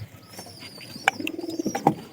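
Pigeons coo in short, soft calls with faint chirps, growing busier and louder toward the end, with no one talking.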